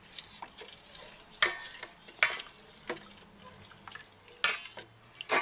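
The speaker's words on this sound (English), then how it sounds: "Get a spoon. Stir tonic well. Mix the tonic properly." A spoon stirs a homemade herbal tonic with herb oil settled on top, giving soft scraping and swishing strokes in an uneven rhythm, with occasional sharper clinks against the container, close by and moderately quiet.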